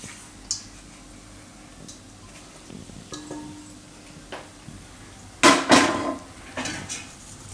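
Cooked gravy for methi malai muthiya being moved into another pot: a quiet stretch of faint ticks, then a cluster of loud metallic clanks and scrapes of utensil against pot near the end.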